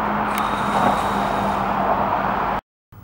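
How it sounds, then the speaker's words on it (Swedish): Road traffic roars near a grassy spot as a steady broadband rumble with a low hum, then cuts off abruptly into silence before faintly resuming. "Men trafiken låter ju så in i helvete."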